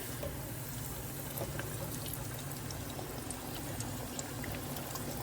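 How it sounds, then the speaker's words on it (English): Shrimp rings fry in a tiny deep fryer, hot oil sizzling with a continuous dense crackle and bubbling, close and steady throughout with no talk. "You let them fry until they float, and that's how you know that they're done."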